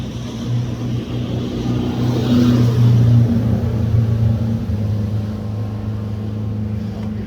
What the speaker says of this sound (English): So interrupted by the police boat,